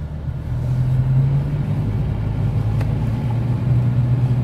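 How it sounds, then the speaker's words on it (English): Heavy road traffic with trucks hauling shipping containers, a steady low engine rumble and droning hum that holds near and loud throughout, without any voices. "containers being carried on trucks"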